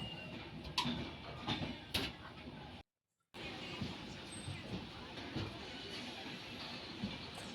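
On board the Nilgiri Express out of Chennai, the train rolls slowly toward Basin Bridge with a continuous rattling rumble and occasional clicks and knocks. A brief total dropout breaks the sound partway through.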